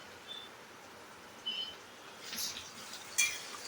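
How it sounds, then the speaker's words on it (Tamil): Onions sautéing in a pan for egg rice, a faint steady sizzle under a few light clinks and scrapes of a spoon against the pan, close and quiet. "இப்போ வதக்கலாங்க போட்டு"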